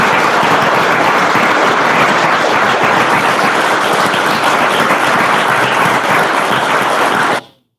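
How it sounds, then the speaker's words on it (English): Dense, loud applause from a large audience rolls on without pause for several seconds, then cuts off abruptly. "That applause goes on for a while."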